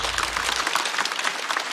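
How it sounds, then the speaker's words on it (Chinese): Audience applause for a contestant at a stand-up comedy competition show, a dense wash of clapping filling the whole short stretch at steady volume with no talk over it. "掌声再次送给小丽"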